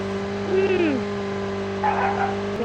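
A car in Call of Duty Mobile drives with a steady engine drone and a pitch-sliding tire squeal, while players talk over the game audio.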